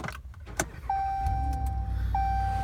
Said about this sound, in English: So you can see when you start up the truck,